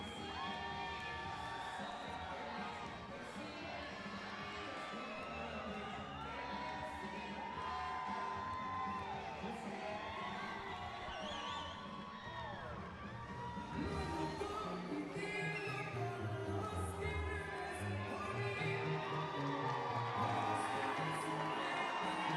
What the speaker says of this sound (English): Jorge Chavez brings the crowd.